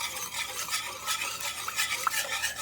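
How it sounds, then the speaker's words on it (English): A garlic mixture with about a tablespoon of garlic is whisked in a bowl, quick rhythmic scraping and tapping strokes close by, steady and fairly soft, with no talking. "whisk this together"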